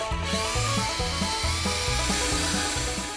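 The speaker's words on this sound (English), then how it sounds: "That even includes this handy dandy mixer that attaches to your drill." A drill-driven paddle mixer churns thick coating in a steady rhythmic whir, its pitch pulsing regularly as the paddle is plunged up and down.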